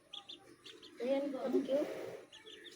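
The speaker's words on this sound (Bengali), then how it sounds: "কত কিউট একটা হাঁস" A duckling gives thin, high peeps in short repeated bursts, faint and close. A voice speaks briefly in the middle, between the calls.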